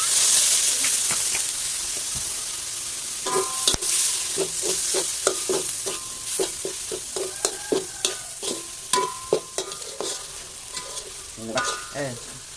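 Roasted chili paste and minced pork stir-fried in a pan give a continuous sizzle and hiss, broken by repeated scraping and clacking strokes of a spatula that grow busier and rhythmic through the middle.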